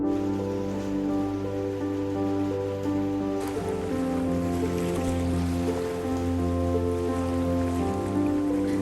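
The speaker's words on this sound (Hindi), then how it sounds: "बहता पानी शहर की सिवर लाइन है जो सीधे इस बस्ती से होकर गुजरती है" Sewer water in a city drain line running through a slum under the Bindal bridge, a steady wide rushing flow with a low hum throughout, alone and unchanging.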